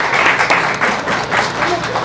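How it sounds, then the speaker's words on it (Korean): A church congregation claps briefly during a sermon, a short round of loud, close applause with a voice speaking over it. "박수 한번 쳐줄까요?"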